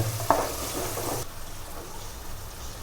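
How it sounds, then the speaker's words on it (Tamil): Peas sauté in oil for a vegetable pulao, giving a brief close sizzle with a quick stirring scrape near the start that then drops to a quieter, softer frying hiss. "ஒரு ரெண்டு நிமிஷம் மூணு நிமிஷத்துக்கு வந்து நல்லா வதக்கி விட்டுருங்க ஆயிலில்"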